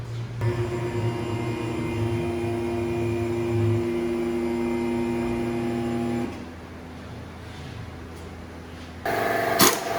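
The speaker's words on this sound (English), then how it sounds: "I know the compressor's running just a little bit loud" An air compressor runs in a garage during a lowering spring install on an S550 Mustang GT, a steady droning hum that drops in level partway through, then a brief louder burst near the end.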